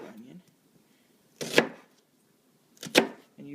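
Two sharp knife cuts through an onion on a cutting board, spaced about a second and a half apart, each a crisp, close crunch against near silence, with a faint voice at the edges.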